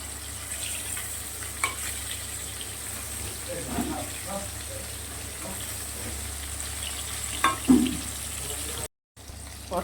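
Pointed gourd (potol) pieces sizzle in hot oil in a pan, a constant soft frying hiss with a few stirring clatters, and a voice speaks over it now and then.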